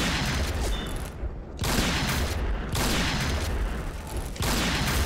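Gunfire in an online shooter video game comes in repeated bursts of booming shots separated by brief quiet gaps, fairly loud and with no voices over it.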